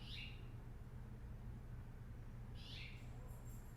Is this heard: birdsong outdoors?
yes